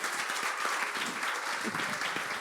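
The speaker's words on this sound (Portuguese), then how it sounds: "Aplauda o Senhor Jesus" A church congregation claps during a Portuguese-language sermon, a continuous fairly soft patter of many hands with faint voices mixed underneath.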